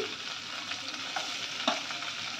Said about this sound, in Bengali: এবারে আমি পেঁয়াজ কুচি দিয়ে দিচ্ছি।